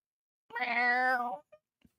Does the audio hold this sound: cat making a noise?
yes